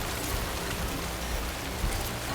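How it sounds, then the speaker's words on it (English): Rain in the video game Death Stranding: a steady, dense wash of falling rain that fills the whole moment, loud and even, with no voices over it. "I ain't coming till the rain stops"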